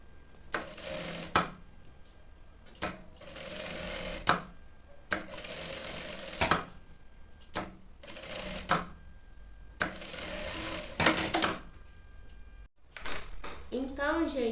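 A sewing machine runs in several separate bursts of rapid whirring stitches while sewing a maternity bag, with quiet pauses between runs and a bit of background noise near the end.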